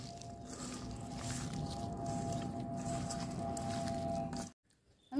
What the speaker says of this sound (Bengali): আমি মশলাটা এবার আলুর সাথে ভালো করে মাখিয়ে নেব।